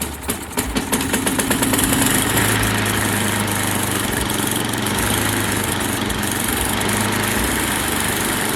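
An MTD snowblower engine starts and then runs loud and close, a steady rough drone with a low chugging beat that holds for several seconds with no talk over it.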